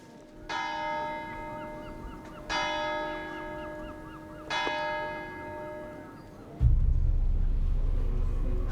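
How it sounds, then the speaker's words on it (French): A church bell in Normandy strikes three times at slow, even intervals, each stroke ringing out clearly and fading. A loud, low rumbling noise follows. "je viens d'entendre la cloche"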